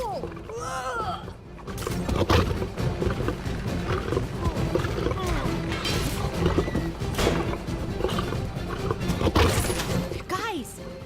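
A lion in LEGO Marvel Super Heroes 2 roars and growls loudly and repeatedly in the wild, rumbling continuously over game effects, with voices speaking briefly at the start and end.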